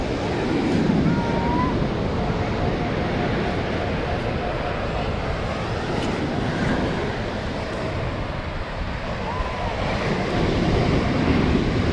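Ocean waves wash continuously onto the sand at Aliso Creek Beach, a steady rushing surf mixed with wind noise on the microphone and no speech.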